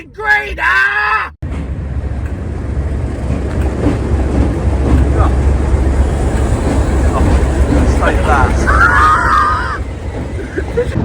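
A train rumbles past steadily for several seconds with a low continuous roar and faint clatter, after a brief burst of voices at the start and some squealing near the end.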